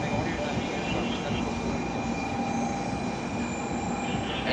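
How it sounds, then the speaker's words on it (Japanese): A Shinkansen Nozomi 186 train pulls into Okayama station, its steady broadband rumble and rolling wheel noise filling the platform loudly and continuously throughout, with a faint high squeal running above it. "到着の列車19時8分発のぞみ186号東京行きです。"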